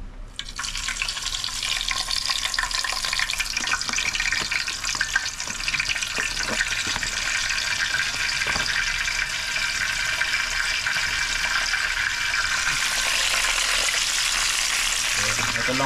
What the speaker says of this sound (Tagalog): Pirito na po natin yung ating tilapia.